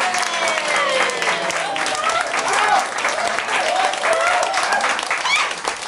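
A crowd at a live music session applauds continuously, dense clapping filling the whole stretch with scattered cheers and whistles mixed in.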